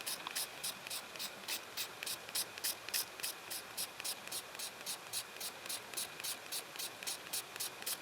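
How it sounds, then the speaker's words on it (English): A knife scraping birch bark into shavings makes quick repeated rasping strokes in a steady rhythm, close and fairly quiet. "I'm going to tilt my knife a little bit too, play with that angle, see if I'm getting any shavings different."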